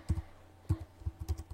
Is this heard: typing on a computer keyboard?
yes